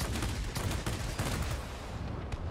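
Rapid aircraft machine gun fire from a Soviet jet fighter such as a MiG-15bis or La-15 in the World of Warplanes video game, dense loud bursts of repeated shots with no pauses.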